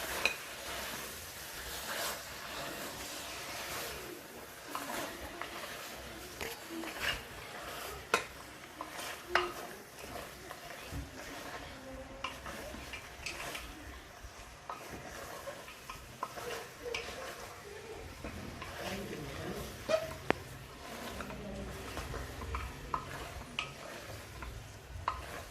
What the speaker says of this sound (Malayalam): നല്ലവണ്ണം ഇളക്കുക.